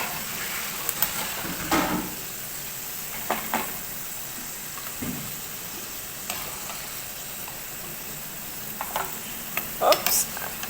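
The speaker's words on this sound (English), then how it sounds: "So we're gonna give it a little time for the garlic and the ginger to cook." Garlic and ginger fry in a pan for chicken biryani with a steady close sizzle and a few louder bursts of crackle and utensil scraping.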